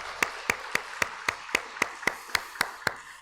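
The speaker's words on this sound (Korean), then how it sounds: "우리 예배 가운데 함께 하시는 하나님께 영광의 박수 올려드리길 소원합니다." A church congregation claps in a steady, evenly spaced rhythm, about eleven crisp claps in quick succession with no voices over them.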